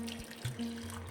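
Hot water poured into a drink of homemade ground turmeric powder, a short steady watery stream lasting about a second, close and fairly quiet.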